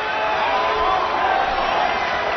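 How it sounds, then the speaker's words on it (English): A wrestling arena crowd cheers loudly and steadily during a collar-and-elbow tie-up, a dense wash of voices and whoops with no break. "Would you listen to this crowd show their appreciation for these amazing competitors?"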